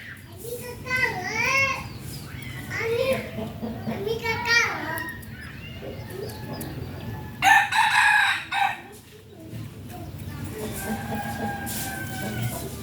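A fighting cock crows in a farmyard, a loud, close, drawn-out call standing out midway, while children chatter and play throughout and a person talks.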